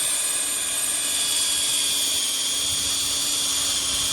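A corded power drill boring a hole for a bolt on a farm gate or implement, a steady high whine running continuously and fairly loud throughout, with no pauses or talk.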